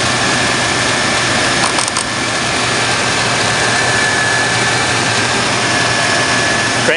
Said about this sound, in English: Runs real smooth. Good old Chevy!